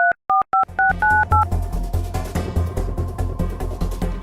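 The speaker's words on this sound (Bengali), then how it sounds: "ডিএম স্যারকে ফোন লাগাও" A phone number is keyed in as a quick run of about six loud, distinct touch-tone beeps, then a steady ringback-like hum with rhythmic pulses follows alone, with no talking.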